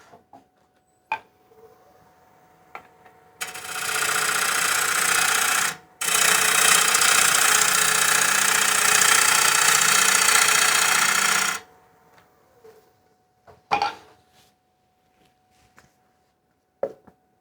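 A wood lathe tool cutting a taper on a wet bowl blank: a loud, harsh, continuous shearing roar lasting several seconds with one short break, framed by quiet moments and scattered clicks.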